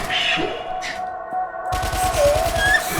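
An online browser shooting game fires gunfire, with a rapid stuttering burst of shots in the second half after quieter game tones, loud and close with no talk over it.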